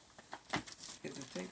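Crumpling and tearing of a Diamond Art Club package as it is opened, quiet crinkly rustles in short bursts close by, with a faint voice in the background.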